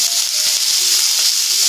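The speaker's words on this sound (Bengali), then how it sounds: "জিরেগুলো ভাজা হয়ে গেছে, ফুলকপি দেব।" Cauliflower dropped into hot oil with black cumin seeds, a loud, dense, continuous hiss of sizzling steam filling the whole moment, no talk.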